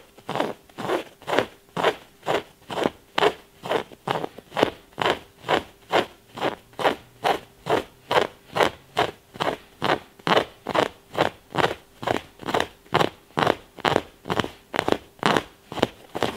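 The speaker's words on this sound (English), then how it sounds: "go back and forth between the sandpaper and the scissors until I get a full cut" Rapid, evenly spaced rasping strokes of sandpaper scraping back and forth across denim jeans to distress them, steady and close, about two strokes per second.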